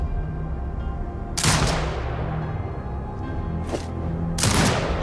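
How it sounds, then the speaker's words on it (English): A turret fires on command in the video game Sniper Ghost Warrior Contracts 2: three heavy, booming shots, the second lighter, each with a rolling decay, over a low ambient game hum; no talk. "Exit binocular mode and command the turret to fire."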